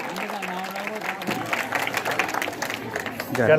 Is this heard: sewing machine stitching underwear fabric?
no